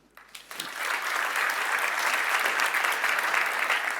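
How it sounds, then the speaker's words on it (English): Audience applause welcoming a speaker on stage at a DockerCon conference session, building quickly from a few claps into steady, dense clapping from a large crowd that holds throughout. "please give a very warm round of applause to Lee."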